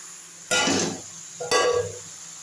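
Pre-fried kohlrabi, beans and eggs with raw tomato are poured into a hot wok in two quick bursts, each followed by sharp sizzling and a clink of metal, a second apart.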